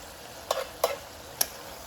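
Sun-dried tomatoes from a jar cook with chicken thighs in a pan for Tuscan chicken. Three short stirring scrapes stand out over a low, steady sizzle, close up with no talking.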